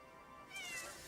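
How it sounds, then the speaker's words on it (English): A cat gives a single soft meow during Crimson Desert gameplay, rising briefly and faint against quiet surroundings. "No meowing allowed."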